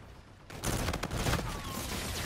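Sustained automatic gunfire in Call of Duty: Infinite Warfare, a loud continuous barrage that begins suddenly after a quiet moment and carries on to the end.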